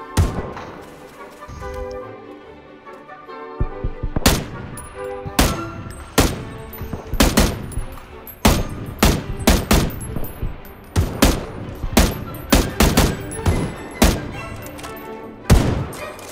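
Loud, close gunfire in the battle royale game PUBG: repeated sharp shots and bursts at an irregular rhythm, with a quieter stretch at the start before dense volleys fill the rest.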